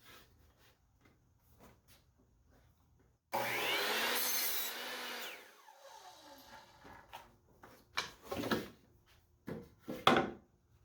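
A chop saw cuts a quarter inch off the edge of a wood board in a workshop, giving one loud rising whine of a few seconds between quiet scrapes and knocks of handling the wood.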